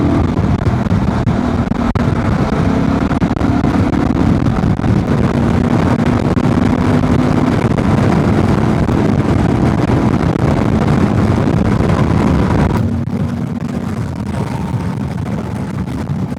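A Honda Transalp 750 motorcycle engine accelerates in fourth gear, a steady loud drone with a slowly rising tone under heavy wind rush, then the revs drop off near the end.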